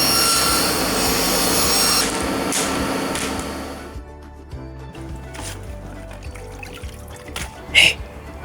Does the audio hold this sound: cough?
no